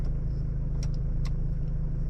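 A 2025 Toyota Prado 250 Altitude driving off-road in sand mode, its engine a steady low rumble close by, with faint brief clicks above and no talk.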